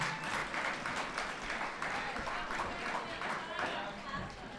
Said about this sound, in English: Big round of applause for that very good trotter